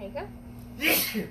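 A single sharp sneeze bursts out loud and close, sandwiched between bits of casual speech.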